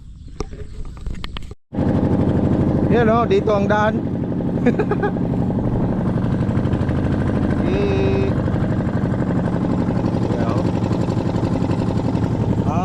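Motorized fishing boat engine at a fish pond, loud continuous rattling chug close by that starts abruptly after a short gap and runs steadily, with people talking over it.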